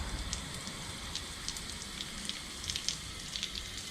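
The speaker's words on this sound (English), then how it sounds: "just give it a light blast of water" A pressure washer gives a light blast of water into the door of a Toyota FJ Cruiser 4x4 during a deep clean, a steady faint hiss with scattered spattering crackles throughout, no voices.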